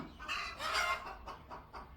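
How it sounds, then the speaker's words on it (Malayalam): A hen clucking nearby in a fairly quiet, short burst of rising, squawky calls followed by a few softer clucks. "കോഴി കരയുന്നു"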